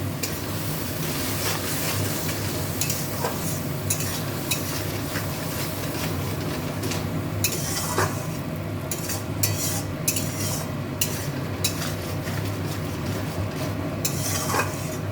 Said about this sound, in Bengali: তো দেখো মশলাটা কষানো হয়ে গেছে